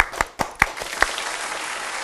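A studio audience applauds to welcome Dr. Ümit Aktaş onto a morning talk show, a few loud distinct claps at first that settle into a softer, steady ripple of clapping.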